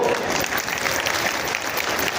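Steady, dense applause from a crowd at a farmers' fair, loud and continuous throughout with no pauses.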